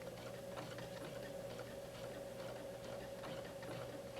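A Baby Lock Allure sewing machine stitching a nearly invisible blind hem on fabric, a steady, continuous mechanical whir with a fine rapid ticking of the needle, running evenly throughout at close range.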